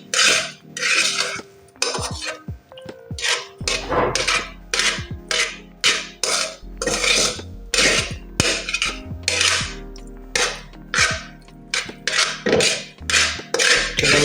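A utensil stirs salt into a mozzarella cheese-making mixture in a metal pot, with rapid repeated clinks and scrapes in uneven bursts, close and fairly loud, with no talking.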